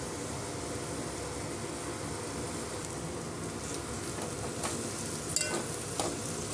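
Okra pieces fry in oil with a little turmeric, giving a steady, dense sizzle throughout with a few brief stirring clicks near the end.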